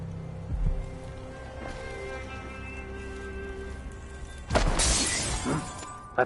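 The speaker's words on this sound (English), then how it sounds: "That sounded like broken glass." Glass shatters loudly in a video game, a sudden bright crash with a tinkling tail that arrives partway through, set against a steady droning game ambience and a few earlier thumps.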